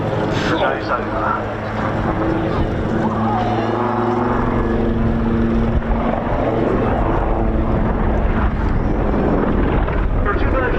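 A Royal Navy Wildcat HMA-2 helicopter flies over at an RAF Cosford air show, its loud rotor thump and turbine whine steady and close throughout, with a commentator's voice over the public address beneath it.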